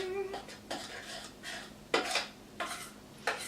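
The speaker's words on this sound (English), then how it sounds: "And then we're also going to add our walnuts from the recipe. Stir that in there." A spoon scrapes and clinks against a bowl while stirring walnuts into a fudge mixture, in a few short bursts of close, moderately loud rhythmic scraping.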